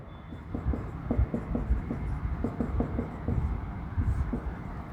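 Chalk or marker writing on a board during a chemistry lecture on aldehydes and ketones, a run of short rhythmic strokes and taps steady across the clip over a constant room hum.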